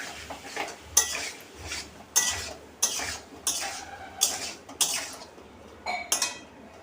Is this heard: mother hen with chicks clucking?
no